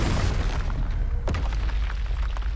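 A Confringo spell blast from Hogwarts Legacy bursts as a deep rumbling boom amid dense game sound effects, with a sharp crack partway through and a low roar that carries on.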